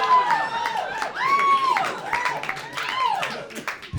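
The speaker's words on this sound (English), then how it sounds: "Why are we clapping?" A stand-up comedy crowd claps briefly, the scattered hand claps mixed with high whoops and cheering voices that rise and fall throughout the room.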